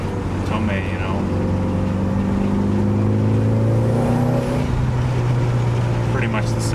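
A Mitsubishi Evo 8 engine idles and revs with a deep, throaty aftermarket exhaust note, rising and falling in pitch, loud and close.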